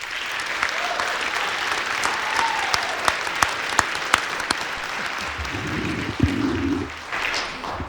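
An audience claps at an evening ceremony honoring police officers, a dense sustained round of applause with a few sharper individual claps standing out, then thinning toward the end.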